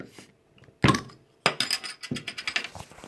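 A beer bottle is opened close by, with a sharp metallic cap click and clinks of glass followed by a hiss and fizzing crackle, and no speech.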